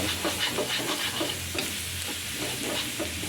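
Field rat meat stir-fried with holy basil in a pan gives a continuous close sizzle, with steady scraping and stirring throughout.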